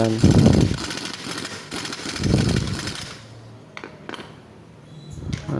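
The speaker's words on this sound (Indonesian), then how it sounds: "Saya yang mengencangkan menggunakan impact shock 39." Pneumatic impact wrench tightening the CVT nut on a 2021 Yamaha NMAX scooter in a workshop, loud rattling bursts at the start and again mid-clip, fading into quieter tool noise and faint clatter.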